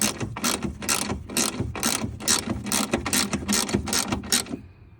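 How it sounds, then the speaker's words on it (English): Rapid, sharp ratchet clicks in repeated bursts as the top bolts are tightened on a 2017 Lexus RX350 hood whose latch would not stay closed, close and loud, with a brief pause partway and no voices. "So tighten these top bolts."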